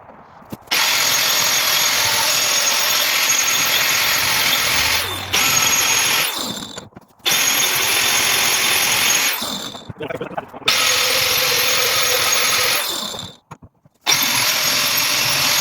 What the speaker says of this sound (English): the reason why you want to be grinding like close to your vise